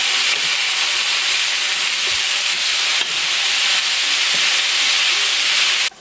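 Vegetables sizzle steadily in a hot pan, a loud, constant frying hiss close by with occasional faint stirring scrapes and no talking.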